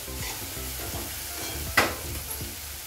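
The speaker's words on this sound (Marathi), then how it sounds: "हे 1 मिनिट चांगलं परतून घ्यायचं आहे, त्याचा कच्चेपणा जाईल इतपत" Vegetables sauté in a pan with a soft continuous sizzle and regular stirring scrapes, close up, plus one sharp clack of the spoon against the pan near the end, with no talk.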